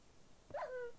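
A wolf in the SkyFactory Minecraft modpack lets out one short, faint, high whimpering whine, rising then trailing off, against a quiet game background.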